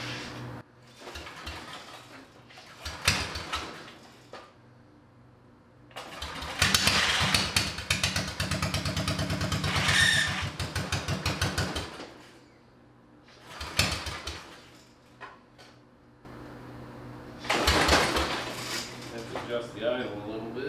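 A small mini bike engine is cranked and starts in several attempts, sputtering bursts that catch into loud running revs before dying back, with a final surge of running near the end and someone talking in between.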